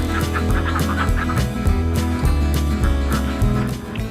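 Egg-laying ducks on a duck farm, a loud close chorus of overlapping honking quacks from many birds, continuous with no talk.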